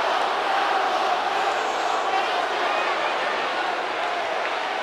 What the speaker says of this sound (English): Crowd trying to will Samus into it, but Samus is fading here.